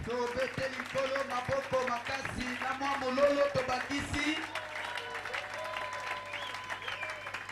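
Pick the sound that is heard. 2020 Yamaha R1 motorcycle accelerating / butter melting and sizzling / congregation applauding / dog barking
congregation applauding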